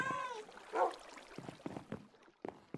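A Minecraft cat gives one clear, drawn-out meow at the start. Scattered soft in-game clicks and taps follow at low volume.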